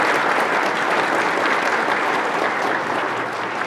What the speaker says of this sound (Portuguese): Uma salva de palmas então para as nossas mães